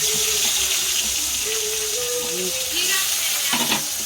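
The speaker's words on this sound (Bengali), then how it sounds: "আলু ভাজা" Potatoes fry in hot oil in a Bengali home kitchen with a continuous loud sizzle and hiss, while occasional voices talk faintly in the background.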